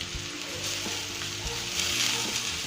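Chopped medium potato, beans, carrot and cauliflower fry with salt in a pan, giving a loud, continuous sizzle with a low steady hum underneath and a few soft knocks, with no talking.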